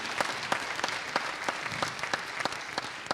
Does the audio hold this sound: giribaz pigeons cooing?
no